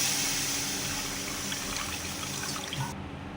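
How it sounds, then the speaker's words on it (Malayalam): Water gurgles and splashes steadily, as if poured into a vessel, for a few seconds before tapering off; water added to rasam made with tamarind. "നമ്മൾ കുറച്ചും കൂടി വെള്ളം ഒഴിച്ച് കൊടുത്തു"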